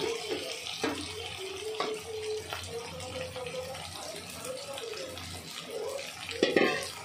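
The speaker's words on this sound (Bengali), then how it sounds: "এই যে পানি দিয়ে দিলাম, পানিটা ভালো করে ফুটছে।" Water poured into a cooking pan of frying onions, a steady rushing flow with sizzling and a few knocks of the pan, close by, with a voice faintly underneath.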